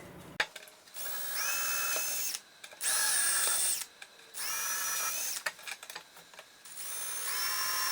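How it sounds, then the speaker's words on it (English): A power drill whines in several bursts in a violin maker's workshop, speeding up and bogging down as it bores through a harp soundboard part, with short pauses between runs. "I need to go ahead and drill through this"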